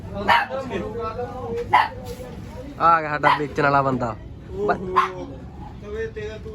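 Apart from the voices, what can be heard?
husky puppies barking and whimpering at horse fair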